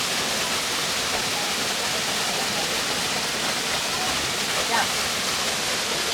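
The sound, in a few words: Savri Waterfall rushing, Netravali Wildlife Sanctuary, South Goa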